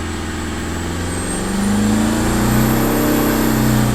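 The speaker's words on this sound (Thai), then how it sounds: "เสียงเครื่องเปลี่ยนเลยนะ รอบมันเร่งขึ้นโดยที่ขาผมไม่ขยับขึ้นนะ" A car engine revs up through a DINO-BOX electric throttle controller, its loud, close drone climbing steadily in pitch as the revs build, with no talking.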